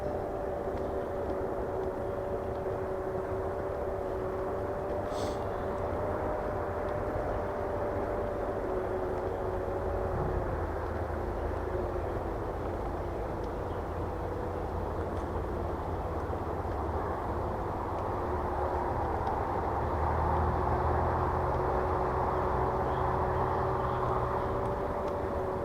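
An Evercross electric scooter's quiet motor hums steadily on a climb at half throttle, a continuous whine with wind and road rumble, close and unbroken throughout.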